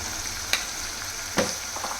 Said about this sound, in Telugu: టమాటా ప్యూరీ కూడా ఫ్రై అయిపోయింది